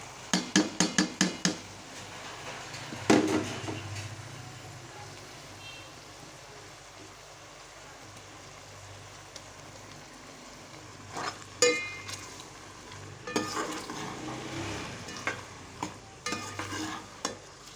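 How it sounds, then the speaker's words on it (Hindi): Boiled carrots go into sugar syrup for gajar murabba, with quick metal spoon taps against the pot at the start, soft bubbling and stirring, then scattered clinks and scraping of the spoon later on. "अब इसमें मैं डालूंगी ये गाजरें जो हमने ना उबाल कर रखी थी"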